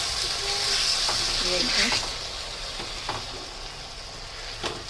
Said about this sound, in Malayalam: ഇനി ഇളക്കി കൊടുക്കാം നമുക്ക്.